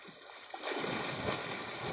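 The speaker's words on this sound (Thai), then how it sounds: "เล่นน้ำแล้วครับ" Splashing and churning water while playing in a river under shady riverside trees, rising from quiet into a continuous, close wash of splatter and gurgling.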